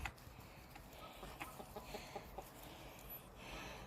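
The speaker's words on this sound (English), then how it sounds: "Are they chickens?" Faint chickens with scaly leg mites cluck softly in short, scattered bursts against a quiet outdoor background.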